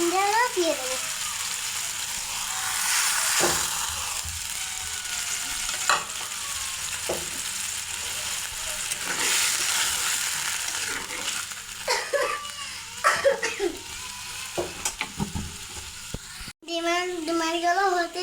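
Eggs fry with spices in a pan, a steady sizzle with occasional stirring scrapes, while voices, including a child's, talk over it now and then.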